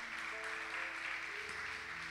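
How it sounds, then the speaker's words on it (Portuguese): Steady applause from a church congregation, moderately loud and continuous, with faint sustained tones underneath. "Que vocês possam dar a maior salva de palmas para o Senhor."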